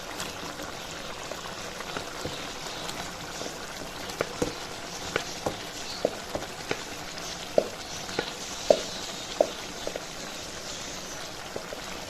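Yam pieces dropped into simmering masala in a pan for senaikilangu chukka, giving a steady low sizzle and bubbling with scattered sharp clicks and small splashes, close and moderately quiet, with no talking.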